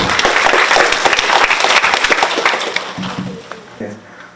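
A conference audience at a Water Day lecture series bursts into loud, dense applause that holds for several seconds and then thins into scattered claps as it winds down, with a murmur of voices beneath.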